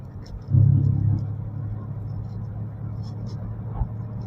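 A manual car engine drones steadily in second gear, a low rumble with a brief louder surge near the start and a soft thump later on.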